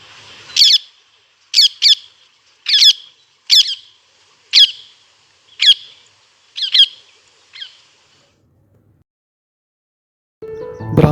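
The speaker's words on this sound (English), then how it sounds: "Call of rose-ringed parakeet." Rose-ringed parakeet calling: about nine loud, harsh, shrill squawks, some in quick pairs, spaced roughly a second apart against silence, then a brief burst of other sound at the very end.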